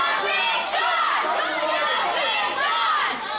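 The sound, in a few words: wrestling crowd cheering to rally Jimpin Josh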